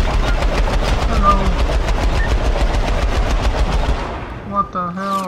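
Rapid, sustained automatic gunfire from a machine gun in the video game Syndicate, loud and continuous for about four seconds before cutting off, followed by brief tonal game effects.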